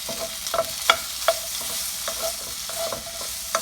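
Shrimp with garlic stir-frying in a pan, a constant close sizzle broken by regular metallic scrapes and clinks of the spatula, busy and unbroken with no talking.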